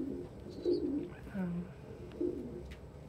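Pigeons coo inside a loft with several soft, low, rolling calls spaced a second or so apart. Faint chirps and light rustling sound in the background.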